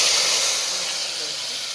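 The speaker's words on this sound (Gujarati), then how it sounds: "તપેલીમાં જ મૂક્યું છે મેં વઘાર હવે હિંગ નાખી અને આપણે જે ટામેટાં સમાર્યા" Hot tempering in a cooking pot with asafoetida and chopped tomatoes, giving a loud, steady, close hiss of steam and sizzle that eases off slightly over a couple of seconds.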